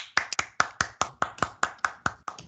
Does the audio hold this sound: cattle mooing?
no